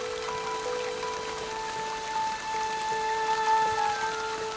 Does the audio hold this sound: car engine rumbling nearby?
no